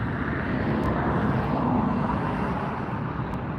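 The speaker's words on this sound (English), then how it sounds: "Eva Air taxiing now." An EVA Air airliner taxiing at Los Angeles Airport gives a steady, broad jet-engine roar that holds at an even level throughout, close and continuous with no voices.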